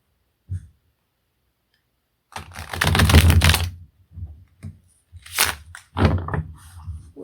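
A Crowley Waite Victorian tarot deck gets a long riffle shuffle, bursts of crisp card flutter and snapping clicks in short close groups separated by brief pauses.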